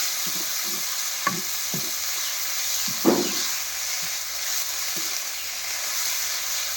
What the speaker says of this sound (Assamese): এতিয়া মই নেফাফু ভাজি আছোঁ